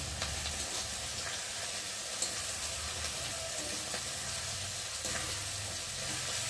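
Garlic-laced spice paste fries steadily in a pan with a continuous broadband sizzle, a few faint stirring scrapes breaking through the hiss, and no one speaking.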